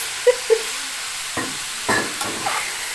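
Cubed potatoes drop into hot oil with a couple of sharp splashes, then soft sizzling and several bursts of stirring scrape through the pan, fairly close and without talk.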